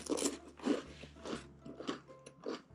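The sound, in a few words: biting into crispy salted pastry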